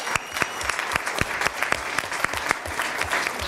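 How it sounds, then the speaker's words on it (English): An audience at a school board meeting claps steadily for a few seconds, a moderate, fairly sparse applause from a small crowd. "So let's give them a round of applause."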